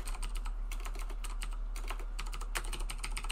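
Keys clatter on a computer keyboard in bursts of fast, uneven typing with short pauses, close and crisp over a low steady hum.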